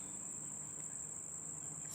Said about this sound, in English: the high pitch frequencies from the insects is getting to me